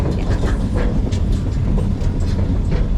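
A passenger train rolls along beside the ocean, heard from a seat right behind the locomotive: a continuous heavy rumble with rhythmic wheel clatter and rattling.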